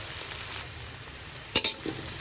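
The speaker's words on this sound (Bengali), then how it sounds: "পেঁয়াজটা হালকা ভাজা হলে ব্লেন্ড করে রাখা মশলাটা দিয়ে দিব।" Onions fry in a pan with a steady, close hiss of sizzling oil, broken near the end by a couple of short clinks and stirring knocks.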